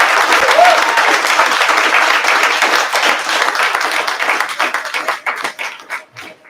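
A room full of people at a solo fashion show applaud Studio 81 hosts, dense clapping close by that holds steady and then thins out into scattered final claps.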